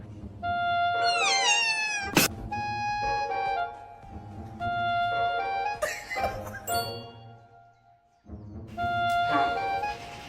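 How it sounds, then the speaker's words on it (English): A pet cat meows several times, rising and falling cries with a tonal whine, close and fairly loud, broken by a short chime-like ding and a brief quiet gap near the end; no one speaks over it. "Oh, my cat."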